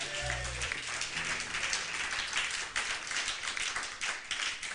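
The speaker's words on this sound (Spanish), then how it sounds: "Quando um aplauso ao Senhor." Church congregation clapping, a dense, steady patter of many hands at moderate distance, continuous for several seconds with a brief low tone at the start and no clear speech.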